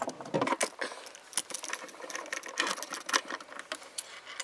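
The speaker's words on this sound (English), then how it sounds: "and then this will tighten in the vise" A replacement ERA lock cylinder clamped in a metal vise, giving close, brisk metallic clicking and rattling in quick irregular bursts as the jaws are tightened, with no talk.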